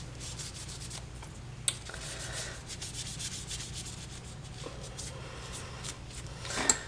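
Soft, continuous rubbing as excess oil is wiped off a CQC 6K knife, a quiet close scratchy texture with a couple of small clicks.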